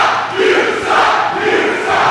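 A wrestling crowd at a Pride For St. Peters match roaring and cheering, a loud sustained wash of voices with swells of shouting.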